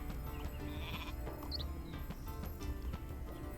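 Sheep bleating in the Northgard strategy game, a short bleat standing out over a steady bed of in-game music and ambience.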